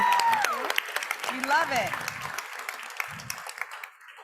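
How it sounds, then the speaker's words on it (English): Clapping from the audience at an evening concert at the UN FAO headquarters in Rome, brief and moderate under a voice speaking and cheering over it, thinning out toward the end. "Guys, give her a round of applause."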